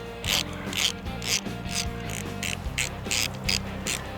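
A hand ratchet clicks rapidly in short bursts while loosening 10 mm bolts on a power washer carburetor, the metallic pawl chatter close and crisp with brief pauses between strokes.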